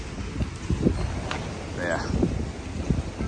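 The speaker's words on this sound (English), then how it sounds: "you could hear the noise, the wind" Steady wind noise buffets the microphone outdoors beside a koi pond, a rough rushing roar under a brief bit of speech.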